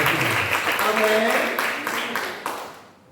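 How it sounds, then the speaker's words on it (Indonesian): A church congregation claps together during a sermon, a loud burst of dense applause with some voices mixed in that fades out near the end. "Beri tepuk tangan kepada Tuhan"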